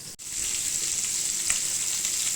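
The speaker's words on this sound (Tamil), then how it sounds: "கருவேப்பிலை கொஞ்சம் போட்டுட்டு பொரிக்க ஆரம்பிச்சிட்டேன்" Steady, close-up crackling sizzle of fish frying in hot oil with curry leaves, continuous throughout with no voices.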